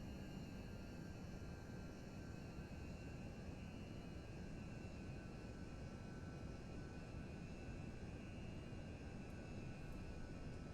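Steady, faint drone of an airliner's engines throttled down while cruising at high altitude, a constant muffled hum heard from inside the cabin without any change or talk.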